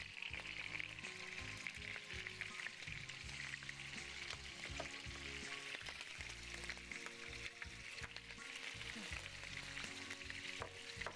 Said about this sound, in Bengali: আমরা এই সেদ্ধ করা মাংসটাকে প্রথমে তেলের ওপর কষে নেব